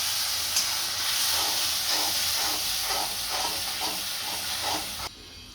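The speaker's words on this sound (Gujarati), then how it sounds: "જીરું આપણું ગરમ થઈ ગયું છે, આની અંદર હવે આ પેસ્ટ બનાવી છે એ નાખશું। આને પકાવી લઈશું।" Spice paste dropped into hot oil with heated cumin, a loud steady sizzle and hiss with bubbling spitting, stirred through, cutting off abruptly near the end.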